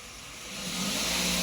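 A car engine revs up as the throttle is opened during an engine control module check, rising steadily from a lower hum to a strong, sustained roar, close and with no talking.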